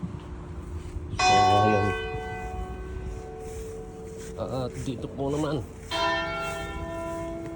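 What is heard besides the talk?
nearby church bells ringing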